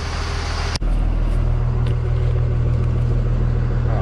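A DIY off-grid RV van fitted with solar panels drives slowly around a yard. A steady, close, heavy engine rumble carries throughout, broken by a single sharp clunk near the start.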